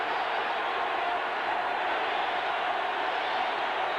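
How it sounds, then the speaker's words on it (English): Charger fans cheering in a San Diego stadium during a Broncos game, a steady distant crowd roar holding at an even level throughout. "And here comes the cheers from the Charger fans."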